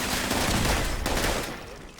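Sustained rapid turret gunfire in a video game, loud and dense, a continuous burst of automatic shots that fades slightly toward the end.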